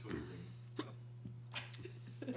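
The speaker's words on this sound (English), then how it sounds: "I get the hiccups." Someone hiccups several times, short sharp catches spaced apart at close range during a podcast, mixed with talk and a steady low hum.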